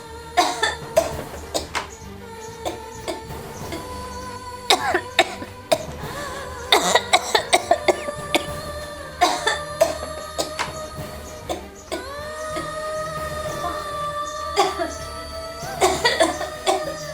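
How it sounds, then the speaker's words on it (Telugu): A person coughs repeatedly in short bursts, with throat clearing mixed in, between stretches of nearby talk in a domestic scene. "నీ దగ్గుడు పాడుగాను"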